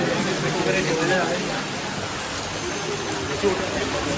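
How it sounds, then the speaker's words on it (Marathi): Steady, close rain hiss fills the whole clip, with a dull murmur of a large Sunday crowd underneath at the Ekvira temple by the Karla caves, Lonavala. "त्यात पाऊस पण कंटिन्यू पडतोय"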